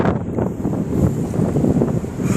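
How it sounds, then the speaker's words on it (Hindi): Strong wind gusts across the open deck of a ferry near Bursa, Turkey, buffeting hard and steadily in a loud, rumbling roar with no talk. "और यहाँ पे बहुत हवा चल रही है."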